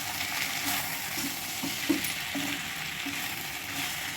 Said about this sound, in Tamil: இது கூட நம்ம கொஞ்சமாக துருவன தேங்காவை ஆட் பண்ணி எல்லாத்தையும் கலந்து விட்டுக்கலாம்